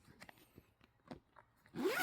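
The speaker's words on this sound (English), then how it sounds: "let me unzip it and bear with me" A zipper on a Pokémon card binder is pulled open in one quick, close, rasping run near the end, after a few soft handling taps and rustles.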